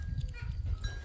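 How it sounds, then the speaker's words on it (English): Goats on a Zimbabwean farm give a short bleat over rumbling wind or handling noise, close and brief. "We're at the farm, enjoying seeing the goats."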